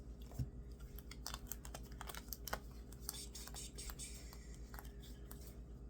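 Oracle cards shuffled and flicked through by hand, a quick close series of soft papery taps and slides over a low steady hum, with no talking.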